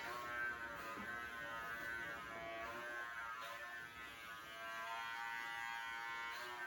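Electric clippers hum steadily and close up while shaving a cat's tightly matted fur, a continuous buzzing drone with slight shifts in pitch as the blades move through the coat, with no talking.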